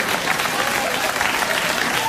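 A late-night talk show studio audience breaks into applause, a dense, even wash of clapping and crowd noise that holds steady and loud throughout.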